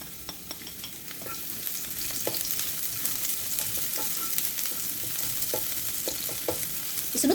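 Onions frying in hot cooking oil in a pan, a steady close sizzle crackling all the way through, with scattered scrapes and clicks of stirring on top.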